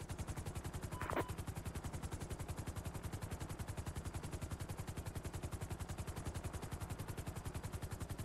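Rapid, steady automatic gunfire rattles on for the whole stretch inside a police roleplay video game, one sharper burst standing out early, with no talk over it.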